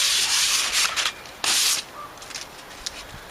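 A surface being sanded smooth in several short bursts of rough, hissing abrasion, loud and close, separated by brief pauses.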